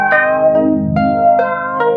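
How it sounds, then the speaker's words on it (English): A Drolo Kiwami vocal-style filter pedal shapes a sustained, rich tone into a shifting, voice-like sweep, with sharp re-attacks about every half second, heard on its own with no talk. "it's a vocal sounding filter pedal that can do a ton of stuff"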